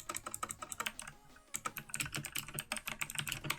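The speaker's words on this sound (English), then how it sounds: "Sorry, I was typing." Rapid, steady typing on a computer keyboard, close and fairly quiet, with dense irregular key clicks that pause briefly near the middle before resuming.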